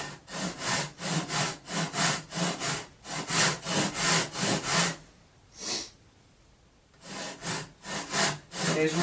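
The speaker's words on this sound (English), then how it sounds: "we just kind of take a couple of back saws here, just get our line sort of established" A hand back saw cuts through a wooden guitar neck blank in steady, close back-and-forth strokes, with a short pause partway through before the rhythmic sawing resumes.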